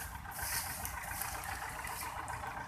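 A Belarus 510 tractor engine idles steadily at close range, a continuous rumbling drone with broadband noise and no speech over it.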